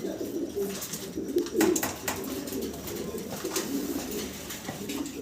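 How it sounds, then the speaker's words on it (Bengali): A pair of black-and-white spangled shallow pigeons coos steadily at close range, their low throaty rolls repeating over soft background bird noise with no talking. "ব্ল্যাক হোয়াইট স্পেঞ্জেল, দেখেন কি চমৎকার একজোড়া শ্যালো কবুতর।"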